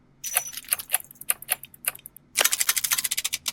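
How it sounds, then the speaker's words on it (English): A mechanical gear sound effect of metallic clicking and ratcheting ticks, first in uneven bursts and then in a denser quick run, crisp and close, with no talking. "this is going to be a mechanical gear"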